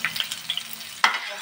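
Chopped garlic and ginger hit a hot pan for spicy chicken with a brief, close sizzle, then a sharper hiss flares near the end.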